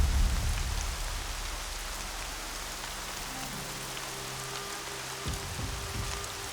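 Steady rain falls, a dense, even hiss of drops on surfaces that carries on alone and fairly close, with a low hum underneath.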